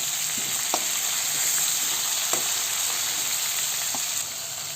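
Chicken pieces frying in hot oil in a pan give a steady, dense sizzle, with a few faint scraping clicks from stirring over the continuous hiss.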